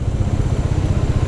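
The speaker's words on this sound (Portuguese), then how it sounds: "Ela não segura o freio certinho como no freio comum, né? Ela fica pulsando." Bajaj Dominar 400 motorcycle with its ABS brake pulsing on a mountain road descent, heard as a steady rapid low throbbing engine-and-brake pulse, close and fairly loud, with no talk over it.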